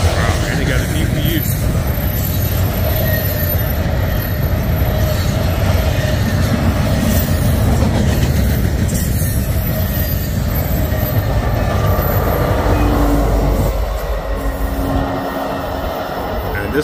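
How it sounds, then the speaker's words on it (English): An eastbound Q freight train with a DPU rolls past at Woodland Street in Olathe, Kansas, loud and close, wheels squealing and rails rumbling continuously, with a voice speaking over the noise. "This is a monster Q train."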